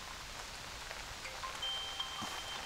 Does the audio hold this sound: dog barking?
no